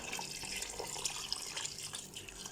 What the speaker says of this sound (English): I'm going to pour in 500 ml of hot water for my potato to cook down